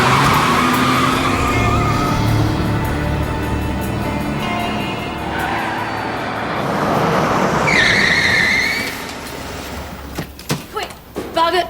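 A car drives hard with tires skidding and squealing, the engine and screech loud and sustained, a high tire squeal rising near the end before the noise breaks up into scattered bursts; voices can be heard underneath.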